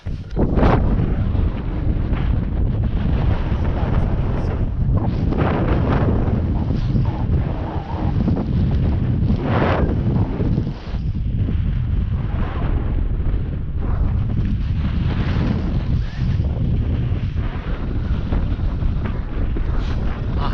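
Strong, steady wind roars across an exposed fell on Skiddaw during a bivy camp, buffeting the microphone as a constant loud rumble with gusty swells throughout.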